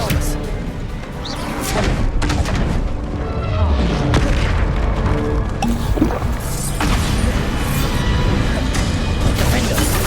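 Expelliarmus being cast during a duel in the video game Hogwarts Legacy on hard difficulty, amid a loud, continuous barrage of booms, crashes and impacts, with voices among the combat.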